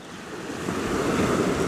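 Surf washing onto a beach by the sea in Turkey, a steady broadband roar of breaking waves that swells slightly louder partway through, with wind buffeting the microphone and no voices.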